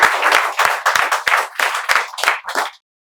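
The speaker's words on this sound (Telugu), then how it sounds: "మీకు ఇక్కడ ఉండే విద్యార్థులు చప్పట్లతో స్వాగతం తెలియజేస్తున్నారు" Students applauding in welcome at a spoken English institute: a loud burst of hand clapping in about eight quick surges that thins out and stops abruptly near the end.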